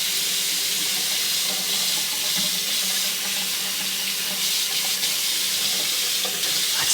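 A shower tap runs hot water in a steady, hissing stream, close and continuous for the whole stretch with no talking.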